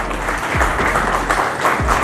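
Audience applause at a live award ceremony, a dense steady patter of many hands clapping at once, sustained and fairly loud for the whole moment with no voices rising above it.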